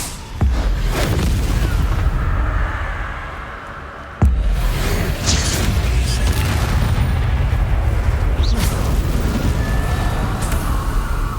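Incendio fire spells burst in Hogwarts Legacy as loud booming blasts: a big explosion near the start, another sharp hit around a third of the way in, and a continuous rumbling roar of fire and combat noise throughout.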